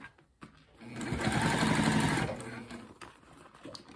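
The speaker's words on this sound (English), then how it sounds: "So I'm just going to stitch down this black cork and then I'll change out my thread." A sewing machine stitches down black cork for a two-tone bag, running in a steady close burst of about a second and a half, then slowing and stopping into quiet room noise.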